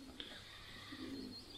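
Soft, low cooing of racing pigeons in a loft aviary comes and goes against a quiet background, with a faint higher bird chirp now and then.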